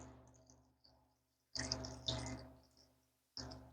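Water runs into a pot of apples for canning homemade applesauce, with short bursts of splashing pouring separated by quiet pauses, close by and moderately loud.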